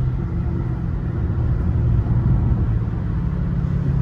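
A Brabus 650 car idles with a steady, close engine rumble and low exhaust drone, no voices, any exhaust pops buried in the even throb.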